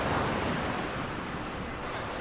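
Sea waves breaking on a beach where olive ridley turtles nest: a dense, roaring wash of surf mixed with wind, steady and close, with no voices.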